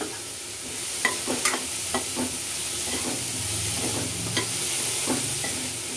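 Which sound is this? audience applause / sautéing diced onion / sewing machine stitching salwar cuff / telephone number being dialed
sautéing diced onion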